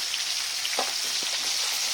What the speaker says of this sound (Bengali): আর এদিকে তখন শিম ভাজা চলছে।